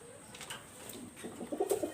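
Pakistani high flyer pigeons cooing softly in a loft with young squabs, low murmuring calls swelling toward the end over faint background rustle.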